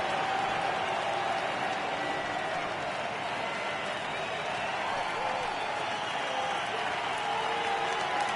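A baseball stadium crowd of about 34,000 fans roars steadily with applause and cheering in Kansas City as the Indians face the Royals, a dense, unbroken wall of sound swelling slightly throughout.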